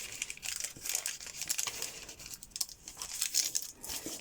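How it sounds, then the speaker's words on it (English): Paper bun cases being flattened and folded into pockets, giving a steady run of soft crinkling and crisp paper rustles with small sharper crackles, close by and with no voices. "if you take bun cases and you lay them out flat, you can actually fold them"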